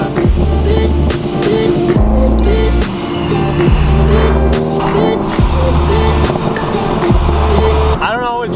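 A car fitted with a backfire tune idles and revs in short bursts, with sharp exhaust pops and crackles on each lift-off, loud and close, and a voice talks faintly underneath.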